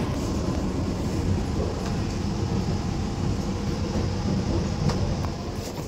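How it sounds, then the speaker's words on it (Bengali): A passenger train rolls into Chennai station with a continuous, fairly close rumble and rattle of carriages over the rails, steady throughout, with no talking. "এখন ট্রেন চেন্নাই স্টেশনে ঢুকছে"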